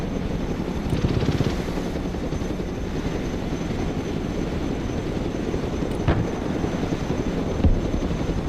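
A Chinook helicopter in the Broken Arrow strategy game gives off a steady, dense rotor and engine drone, constant throughout with a few faint clicks over it.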